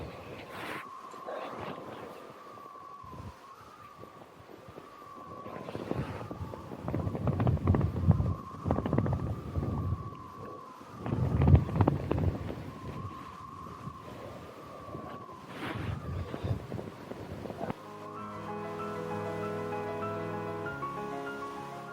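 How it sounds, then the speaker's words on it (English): Strong gusts sweep around a tent pitched for winter wild camping, swelling into rumbling bursts and easing off again, with a steady low hum running beneath. "it is quite windy"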